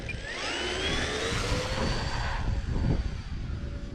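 An E-flite EC 1500 RC plane flies into strong wind, its electric motor whining steadily with shifting pitch, mixed with constant wind rumble on the microphone and no talk.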